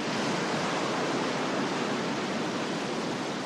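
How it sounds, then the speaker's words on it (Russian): Ocean waves crash in a radio play, a dense, loud, continuous roar of surf that fills the whole space evenly with no pause. "Огромная волна подхватила его и выбросила на берег."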